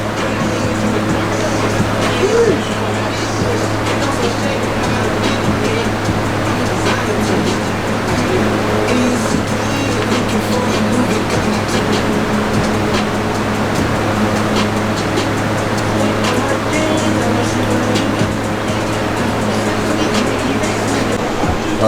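Rebuilt Yamaha Banshee quad engine running steadily after its first start, a loud continuous droning idle that holds throughout, close by.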